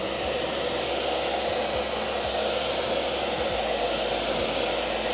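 A heat gun blows steadily to warm headlight film on a Honda Civic Type R, a continuous loud airy roar with no pauses and no talking.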